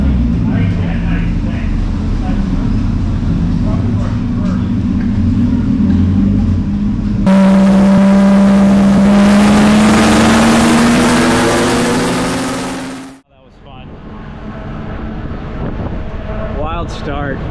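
Race cars at Daytona speedway pass close by with a loud, rising roar, joined by steady engine drone and wind buffeting, before a sudden cut to quieter engine noise.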